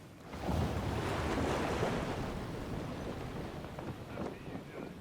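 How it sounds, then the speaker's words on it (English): Wind rushing over a sailing ship at sea in Pillars of Eternity II: Deadfire, a broad roaring whoosh that swells early and then settles into steady gusting with wave wash. "The sails billow out and catch the wind in full."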